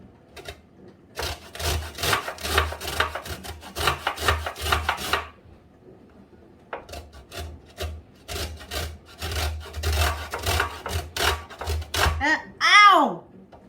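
A lemon is rubbed over a grater for zest in rapid rasping strokes, in bursts separated by short pauses, followed by a brief high-pitched child's cry at the end.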